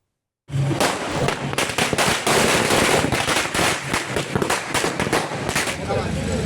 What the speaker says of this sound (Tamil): தொண்டர்கள் பட்டாசு வெடித்தும்